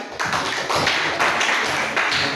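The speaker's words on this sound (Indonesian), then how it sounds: "Tepuk tangan untuk kawan-kawan." Classmates in a coding and artificial intelligence training class give a short round of applause, a steady wash of clapping with rhythmic pulses lasting a couple of seconds.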